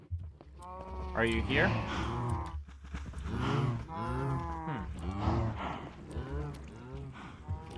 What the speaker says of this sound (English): what's with the cows? What's with the cows?